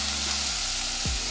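A Hello Fresh meal sizzles in a hot pan while being stirred, with a dense, close hiss and crackle running steadily under a low hum.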